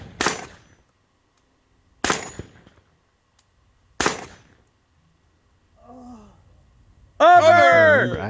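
Three loud, sharp gunshots ring out about two seconds apart at a 3-gun shooting competition stage, each with a short echoing tail. Faint speech follows, then a loud voice calls out near the end.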